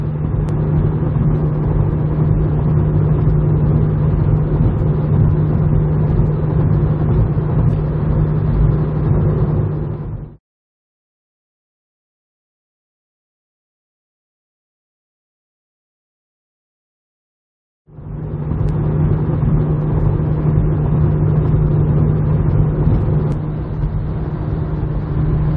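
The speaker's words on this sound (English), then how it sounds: "Let me give you a listen to what no crossbar sounds like." Steady road and wind roar inside a moving car fitted with a roof rack but no crossbar, a loud constant low rumble that cuts to silence for several seconds and then returns unchanged.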